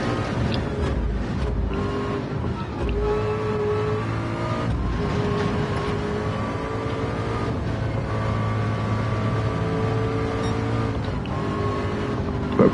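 A race car engine in a virtual reality 24 Hours of Le Mans racing game, held in fourth gear while chasing a McLaren, drones and revs steadily and loudly throughout, with shifting pitch and no talk.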